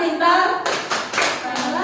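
Children clapping in unison in a classroom as a cheer chant, several short bursts of claps following a teacher's voice, mid-distance with some chatter around.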